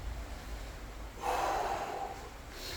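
A person breathes hard during a shoulder workout in a garage gym, one forceful close exhale rising above the quiet background.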